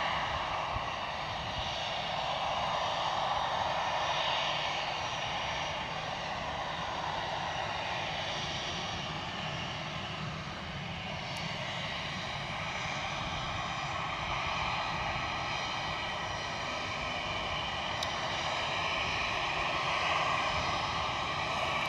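Airliner taking off from Edinburgh Airport, a long sustained engine roar with a droning midrange whine, steady and fairly loud for over twenty seconds, slightly dipping midway before swelling again.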